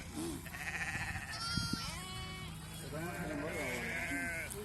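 A flock of sheep bleats in overlapping wavering calls at a vaccination round, mixed with people talking close by.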